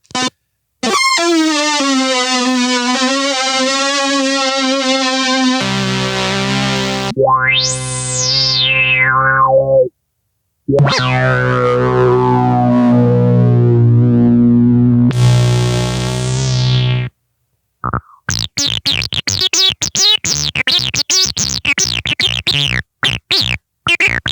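A string of heavily processed, pitch-shifted vocal tones from a vocal effects pedal cycles through several distinct presets, some sweeping, harmonized or choppy, separated by brief silences.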